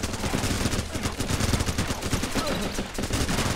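Gunfire in the video game Running with Rifles, rapid overlapping shots and bursts crackling continuously and loudly throughout, with a dense battle din and no clear pauses.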